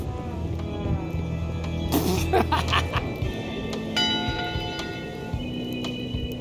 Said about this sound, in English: Go ring the bell yourself.